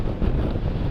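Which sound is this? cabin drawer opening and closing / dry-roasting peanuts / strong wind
strong wind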